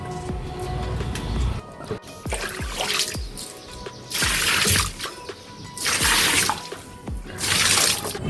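Tap water runs and splashes during washing at home, a steady trickle with repeated louder surges of pouring and splashing throughout.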